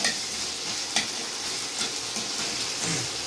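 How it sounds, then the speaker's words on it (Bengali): Ginger stirred as it fries in a pan, a steady broadband sizzle with a few sharper scrapes of the spoon at irregular moments, close and continuous with no talking. "আদার কাঁচা গন্ধ যাওয়া পর্যন্ত একটুখানি নেড়ে নেবো"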